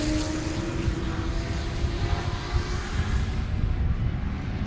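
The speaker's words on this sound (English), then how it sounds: "now we got some racing going on, man" Race cars at Sebring roar past in a continuous, loud engine drone, a steady buzzing tone sliding slightly in pitch as the cars circulate on the track, with no talk.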